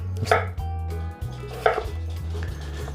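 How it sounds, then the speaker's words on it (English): A knife chops potatoes into quarter slices for a kielbasa, kraut and potato dinner: two crisp, separate cuts about a second apart, close by, over a steady low hum. "So just cutting them essentially into quarter slices and lining them up."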